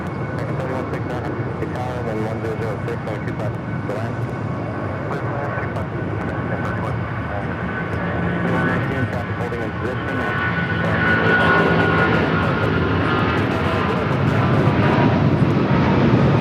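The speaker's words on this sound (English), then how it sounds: "This is American Airlines 787 taking off to Miami" An American Airlines Boeing 787 taking off from Los Angeles for Miami, a loud, steady jet engine roar that builds gradually, with a voice talking over it.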